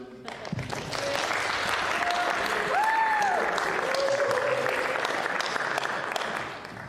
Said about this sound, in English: I'd like to give a round of applause to our tech man Andy here